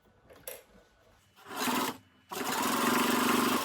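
A sewing machine back stitches a knot headband in short close bursts of rapid mechanical whirring and needle chatter, ending in a longer steady run.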